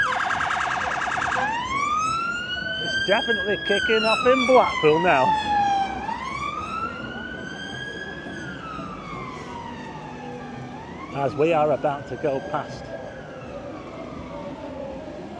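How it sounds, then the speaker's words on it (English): Police car siren passing through central Blackpool streets at night near the central pier, a loud rising and falling wail sweeping close by, with someone talking over it. "Oh, it's not an ambulance this time. It's a police car."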